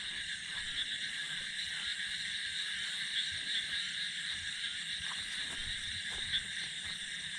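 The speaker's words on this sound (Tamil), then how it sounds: "இங்கே நிறைய தவளைலாம் கத்துற சவுண்டுலாம் கேட்குது." Frogs near a forest pond at night make a faint, continuous chorus of high, buzzing trills, with a few brief louder calls standing out against the dark background and no one talking.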